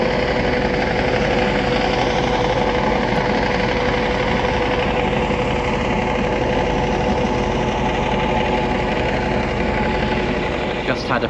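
A small outboard motor on a dinghy drones steadily and loudly throughout, a constant buzzing hum with faint wind or water noise beneath it.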